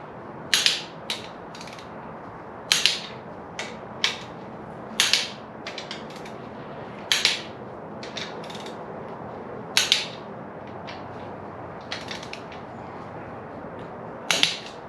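Husky torque wrench clicks in short ratcheting bursts while bolts are tightened to 44 foot-pounds during 4AGE engine bottom-end assembly, sharp and close, repeating at irregular intervals over a quiet garage background.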